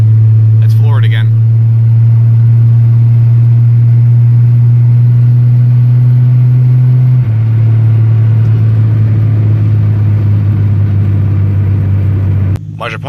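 A 1983 Ford LTD with blown-out shocks and sagging springs drones loudly at full throttle, the heavy low engine hum holding steady and stepping down slightly in pitch midway, as if from inside the car.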